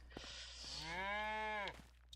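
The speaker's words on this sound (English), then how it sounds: "I don't remember cows being this noisy" A single drawn-out cow moo from the farming video game Hof Bergmann, moderately close and alone, rising and then tailing off over a low steady background hum.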